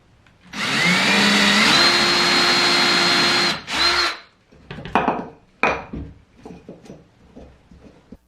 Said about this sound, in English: I will cut a demo in here to show you how they drill a hole right now.